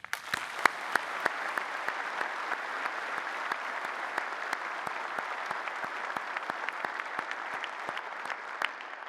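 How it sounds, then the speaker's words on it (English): Applause for award winners at a conference opening session, a dense sustained round of clapping from a large audience with sharp individual claps standing out, continuing evenly throughout. "Please join me in another round of applause for all of our award winners."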